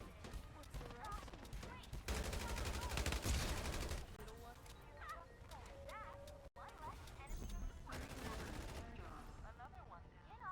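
Automatic gunfire in the Farlight 84 battle royale game, rapid bursts in several volleys over about ten seconds, heard beneath a speaking voice.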